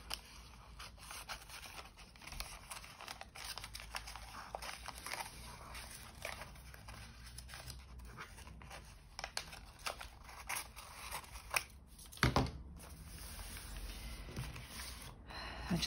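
Faint, quiet snips and scrapes of scissors trimming off excess material on a handmade file folder folio, near the strings, with a louder cut around the twelve-second mark.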